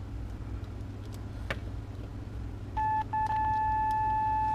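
A home-built signal tracer and injector from a K7000 kit gives out a steady electronic test tone that starts partway through, briefly drops out, then holds over a low background hum.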